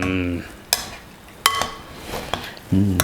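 Beef being mixed with garlic for a spicy vindaloo curry: scattered clinks and scrapes of a utensil against the bowl over a soft stirring rustle, with brief low murmurs of voice at the start and end.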